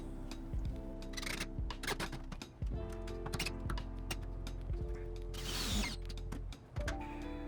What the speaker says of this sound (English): Now I screw in the center one